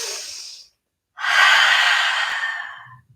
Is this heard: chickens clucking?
no